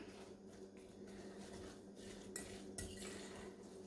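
A spoon scrapes and clinks against a bowl while a salmon patty mixture is stirred, a faint, steady wet churning broken by a couple of sharper knocks near the end.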